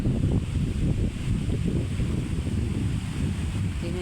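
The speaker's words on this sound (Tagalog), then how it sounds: "Mahangin mga Mars. Yan ang hangin." Strong, steady wind roaring and buffeting the microphone, a continuous low rushing noise with no voices.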